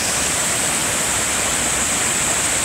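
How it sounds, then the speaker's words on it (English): A raging river along the Appalachian Trail rushes in a constant, loud, close roar of churning water, steady with no breaks and no voices. "It's just a raging river here."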